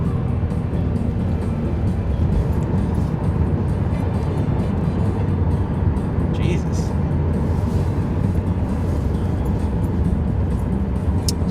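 A 2013 Dodge Dart's engine drones steadily from inside the cabin while driving, its sluggish automatic transmission holding a low, continuous hum, with someone talking over it.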